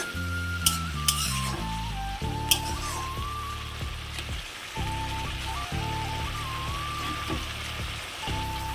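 Potato and capsicum dry curry sizzles steadily in a pan after a splash of water, with irregular scraping and clinking of a spatula stirring through it, plus a few sharp spits; no voices.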